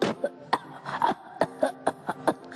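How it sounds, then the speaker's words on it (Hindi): A child coughs repeatedly, about eight short bursts in an uneven rhythm, close to the microphone and fairly loud, with brief voiced catches between them. "मेरे को ना बहुत खांसी हो रही है"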